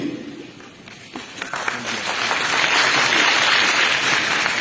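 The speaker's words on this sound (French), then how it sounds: "Nous voulons pour cela vous applaudir sincèrement" Applause from party members at a political congress, rising from a quiet start into a broad, sustained wash of clapping that grows louder through the second half, with some speech heard early on.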